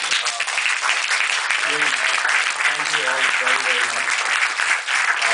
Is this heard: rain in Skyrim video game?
no